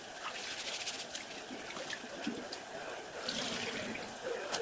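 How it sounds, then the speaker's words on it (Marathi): Rice being washed in water, with a continuous close sloshing and trickling of water, fairly steady and moderately loud. "तांदूळ धुवून घेतले."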